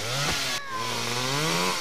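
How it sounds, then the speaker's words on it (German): A chainsaw in the video game Naughty Bear Panic in Paradise revs with a buzzing, rising engine whine that dips briefly and climbs again over a couple of seconds. "Jetzt können wir mit der Kettensäge, soweit es geht, auch durchrasen."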